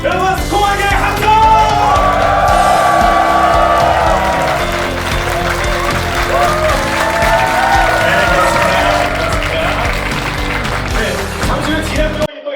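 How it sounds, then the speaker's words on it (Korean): A large crowd cheers and applauds loudly and continuously at an esports player's retirement ceremony fan meeting, with yells and whoops rising over sustained clapping before fading. "여러분 스코어에게 함성!"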